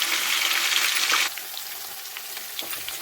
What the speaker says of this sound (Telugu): దీంట్లో ఆనియన్స్ వేసుకుని వాటిని కూడా బాగా ఫ్రై చేసుకోవాలండి